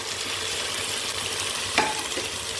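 Chopped tomatoes stirred into onions frying for a Kannur-style prawn rice, a constant loud sizzle with one brief scrape of a utensil near the end, no talking.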